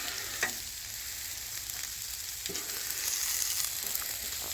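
Shrimp and chorizo frying on a flat-top griddle beside cooking fajita vegetables, a dense steady sizzle that swells slightly toward the end, with a few faint scrapes of a spatula.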